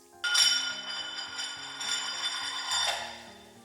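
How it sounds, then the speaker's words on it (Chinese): Minced garlic and small chili peppers hit hot oil in a wok and set off a sudden, close, broad sizzle that keeps crackling and swells again near the end, with music playing underneath. "接着起锅烧油，锅中油热，下入蒜末、小米椒爆香"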